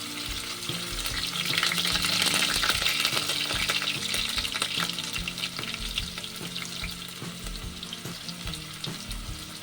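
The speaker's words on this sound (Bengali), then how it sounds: "তেলের মধ্যে পেঁয়াজ দিয়ে দিলাম, আর কারি পাতা একসঙ্গে দিয়ে দিচ্ছি।" Onions and curry leaves fry in hot oil with a steady, dense sizzle, broken up by a few scraping stirs and clinks. Loud and near throughout, with no voices.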